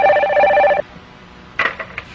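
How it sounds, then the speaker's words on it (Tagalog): Telephone ringing indoors with a steady electronic bell tone for under a second, then stopping, followed by a brief faint voice. "Kana, telepono. Mubagting ganina, tubagon mo dayon ha."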